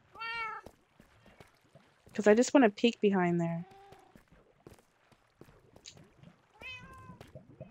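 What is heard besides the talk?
cat meowing in a video game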